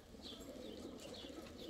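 Van breed pigeons, just bathed and still wet, coo softly in a large loft, a low continuous murmur with faint higher chirps, heard alone without voices.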